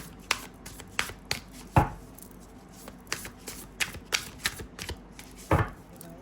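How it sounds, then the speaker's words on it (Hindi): Tarot cards being shuffled by hand, with sharp irregular riffles and slaps and a couple of louder thumps as many cards spill and fall out, close and clear with no talking. "बहुत सारे कार्ड्स गिर रहे हैं"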